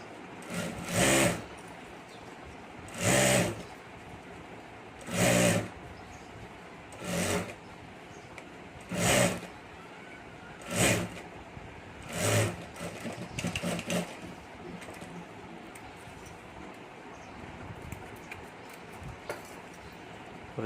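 A sewing machine stitches along the top edge of a handmade boho hand bag, running in about seven short repeated bursts with pauses between, moderately close and with no talking.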